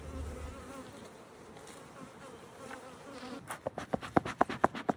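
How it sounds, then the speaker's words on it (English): Honeybees swarm around a hive during a Demaree split, a soft continuous hum that swells into a run of loud, close buzzing passes as individual bees fly right by. "What I have is lots of bees."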